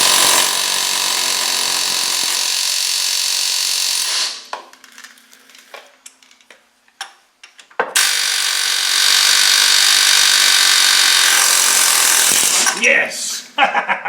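A chisel cuts through a stubborn nut on a car's rear A-frame, with loud sustained grinding and scraping bursts separated by a quieter stretch of intermittent knocks and tool noises.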